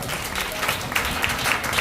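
Congregation clapping during a Hindi-language Bible study sermon, a steady patter of hands with a few sharper claps standing out, moderately close and continuous throughout.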